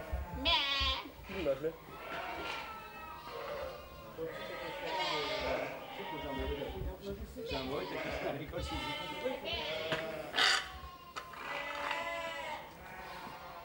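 Sheep bleat repeatedly inside a sheepfold, loud, close and overlapping, while people talk quietly nearby in French.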